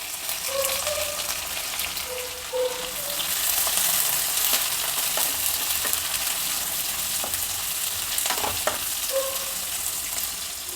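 Sliced onions with bay leaf and cumin fry steadily in a pan, a continuous close sizzle and crackle with a few brief spoon clinks, with no talk.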